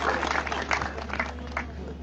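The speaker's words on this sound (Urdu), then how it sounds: "میرے بھائی کے لیے تالیاں بجائیں" A crowd at a PTI political rally in Kohat applauds, a dense patter of many hands clapping at once and mixed with murmuring voices under a steady hall-like hum.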